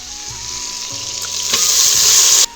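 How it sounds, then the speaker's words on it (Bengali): Washed rice and lentils go into a pan of frying vegetables for khichuri, setting off a hissing sizzle that swells louder over a couple of seconds and then cuts off abruptly. "এবার দিয়ে দেবো ধুয়ে রাখা চাল ডাল।"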